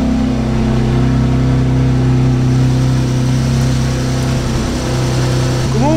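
Quad-turbo car engine idling and revving with a steady deep drone and muffled tone, loud and close throughout, with a slight change in pitch near the end.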